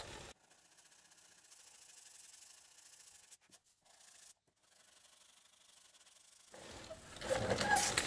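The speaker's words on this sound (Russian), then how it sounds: "120-ка на брусок, она уже мертвенькая, но я так подчухаю чутка." A sanding block wrapped in worn 120-grit paper rubs over a welded metal seam during paint prep, a soft, close scratching in repeated strokes that stops briefly, then gives way to louder rustling and handling noise near the end.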